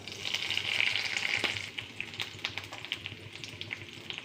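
Curry leaves hit hot oil in a loud burst of sizzling, which settles into a steady, softer crackle and spatter, heard up close with no voices.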